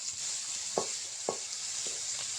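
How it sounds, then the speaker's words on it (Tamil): Chopped onion, green chilli and capsicum sizzling in hot oil in a pan for homemade pasta, a constant bright hiss with a few soft spatula knocks on the pan. "இப்போ நல்லா ஃப்ரை பண்ணிக்கலாம்."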